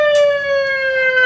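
Wireless police/ambulance siren mounted on a Yamaha Aerox 155 scooter, sounding one loud, steady, slightly falling electronic wail up close, with no other sounds.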